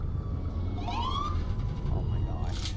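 Rising and falling ambulance siren wails in a Greenville roleplay video game, heard fairly distinctly for about a second over steady low rumble and background noise.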